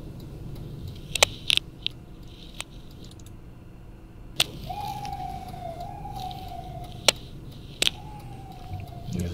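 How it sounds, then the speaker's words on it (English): A siren wails faintly outside in the distance, holding a steady tone and then sliding lower, with scattered sharp clicks and taps nearby. "There's another siren."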